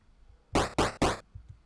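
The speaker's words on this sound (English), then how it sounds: "Then we have the enemy being hit," Three quick punchy enemy-hit sounds from a chiptune video game in rapid succession, a sharp arcade-style hit effect, fairly loud against near silence.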